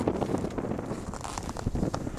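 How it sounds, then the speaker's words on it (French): Gusty wind in Antarctica buffeting the microphone, a continuous rough rumble and flutter rising and falling in strength across the short stretch. "On se prend enfin un petit peu de vent."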